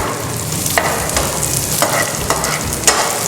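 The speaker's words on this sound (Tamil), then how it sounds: "இப்போ இதை ஃப்ரை பண்ணிடணுமா?" Steady sizzling of bread frying in hot oil, with a few sharp scraping clinks of a utensil against the pan, close up and without talk.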